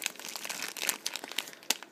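Packaging paper from a Canon Rebel T3i camera box is folded back up, giving dense, irregular crinkling and crunching with a few sharper crackles, close and moderately loud, with no talking.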